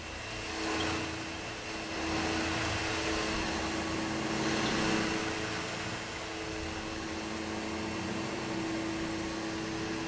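A vacuum cleaner with a dust bag runs steadily nearby, a loud continuous whooshing hum with a faint whine that swells slightly and eases, no voices.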